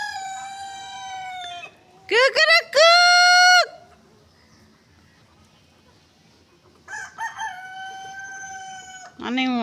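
Several Australorp roosters crow in turn, near and loud. Long crows come at the start, then a quick pair of overlapping calls, a quiet gap, and a long crow near the end that runs into one more.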